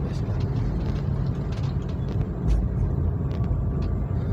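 Motorcycle engine running with a clutch plate fault, a steady low rumbling drone with slight swells, loud and close, heard alone without talk.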